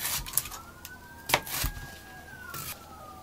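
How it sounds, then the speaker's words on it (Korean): An ambulance siren passes by outdoors, a faint rising and falling wail drifting through the background with a few nearby clatters and knocks. "어디서 이렇게 앰뷸런스가 지나가는지 소리가 크게 나네요."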